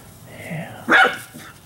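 A dog barks sharply once, loud and close, while chasing a cat, preceded by a softer whine-like sound.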